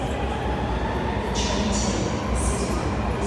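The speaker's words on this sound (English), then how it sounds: "There's another train coming right now." A Sydney Metro train pulls into an underground city station platform, a steady loud rumble of wheels and motor filling the space with a few brief high hisses and squeals near the end.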